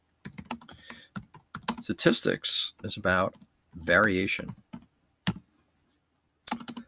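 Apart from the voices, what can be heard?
typing on a computer keyboard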